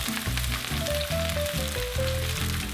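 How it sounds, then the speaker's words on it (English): Onion, eggplant, celery and carrot sizzling in a hot pan, a steady frying hiss heard close, overlaid by soft background music with a faint melodic line. "Now add the onion, eggplant, celery, and carrot to the pan. Give the veggies a quick stir,"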